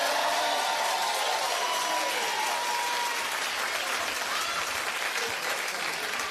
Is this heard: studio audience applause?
yes